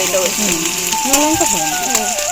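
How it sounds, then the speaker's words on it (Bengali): Oil sizzling in a pan as dried chilli and onion fry, overlaid by squeaky, gliding scrapes of a utensil against metal. "কড়াইয়ে তেল দিয়ে শুকনো লঙ্কা ফোড়ন আর পেঁয়াজ দেওয়া হয়েছে"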